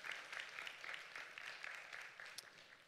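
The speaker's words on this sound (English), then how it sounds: "Let's give them a round of applause." A church congregation claps in a faint, distant round of applause for a welcomed family, sustained and even throughout.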